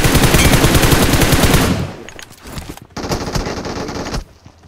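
Video game weapon firing in a rapid automatic burst, loud and close, cutting off, then a second sustained burst that stops abruptly, with no voices.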